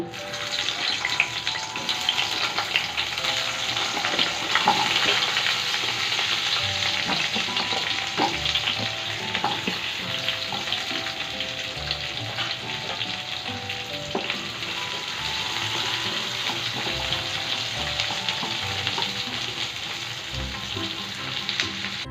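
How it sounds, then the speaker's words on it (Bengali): Potatoes and eggplant fry in the oil left over from frying pabda fish, giving a steady, close sizzle and crackle that runs without a break and without any voices. "মাছ ভাজার পর যে তেলটা থেকে গেছে সেই তেলের মধ্যে আমি আলু আর বেগুনগুলোকে ছেড়ে দিচ্ছি ভাজার জন্য"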